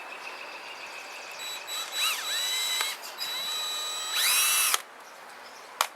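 A power drill with a 7/64 bit drills into an APR Flowform A01 wheel center cap in short bursts, spinning up and winding down with a high mechanical whine, close by and fairly loud.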